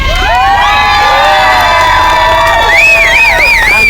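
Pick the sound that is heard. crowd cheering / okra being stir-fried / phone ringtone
crowd cheering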